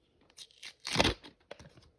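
Close by, a small collectible packet is ripped open by hand: a few short crinkles, then a loud, crackling tear, and more faint rustling after it.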